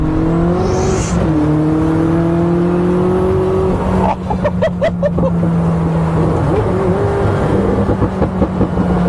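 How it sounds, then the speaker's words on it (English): A powerful Koenigsegg V8 engine with a six-speed manual gearbox drones and shifts pitch, then revs in rapid pulsing bursts, loud and close throughout. "Let's just take a listen to the Jesko's V8, and of course in unison with that 6-speed manual."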